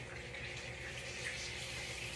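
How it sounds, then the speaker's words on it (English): Four cups of whole milk pour steadily into a bubbling flour and butter roux in a pan, a continuous liquid splashing and hiss lasting a couple of seconds with no talking. "4 cups of milk, whole milk."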